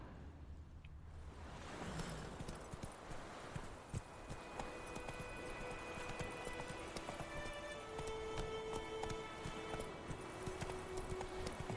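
A horse's hooves clip-clop steadily while crossing water in The Witcher 3, with continuous splashing and wave-like wash and a faint in-game wind bed throughout.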